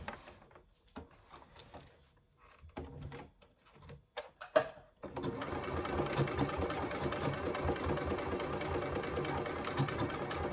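A sewing machine back stitches a Scarlett hobo bag, first in short stop-start bursts with handling clicks, then running in one steady, continuous whir close by.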